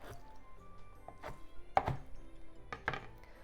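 Glass noodles cut for a cucumber and tuna salad, a few soft separate thunks and snips spaced out over a quiet kitchen background, no talking.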